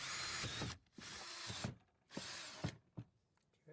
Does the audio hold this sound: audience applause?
no